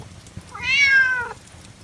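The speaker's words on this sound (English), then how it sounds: "only woke up by hearing a cat's meow" A single drawn-out cat meow rises and falls over about three-quarters of a second, fairly close and clear against quiet background.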